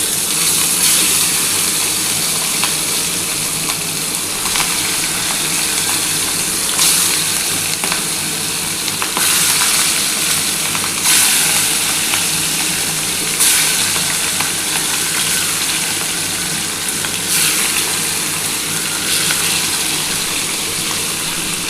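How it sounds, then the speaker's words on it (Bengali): Small pieces of catla fish fry in a pan of leftover hot oil, giving a loud, steady, crackling sizzle that runs unbroken with bright spitting bursts. "এই তেলের মধ্যে যে কটা বাকি আছে আমি সেগুলো ভেজে নিচ্ছি"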